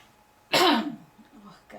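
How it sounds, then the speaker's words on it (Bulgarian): A woman gives a single sharp cough up close, followed by a short throaty trailing sound and quiet aftermath. "Ох, кашлям сега."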